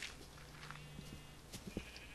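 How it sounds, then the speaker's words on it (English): Sheep bleating in the video game Minecraft, a few short faint calls scattered over a low ambient background, with no talking. "I hear sheep now"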